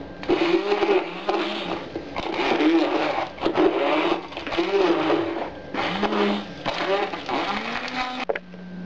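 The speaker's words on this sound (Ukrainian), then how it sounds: "Попробуємо зробити блендером крихти." A loud blender whirs and grinds in repeated pulses, crushing cake into crumbs, its motor surging and dropping, before cutting off abruptly near the end.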